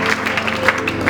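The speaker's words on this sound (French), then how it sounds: "Acclamons pour la gloire de Dieu." Church congregation applauding during a Sunday worship service, a dense, steady patter of many hands clapping close by, with a voice faintly underneath.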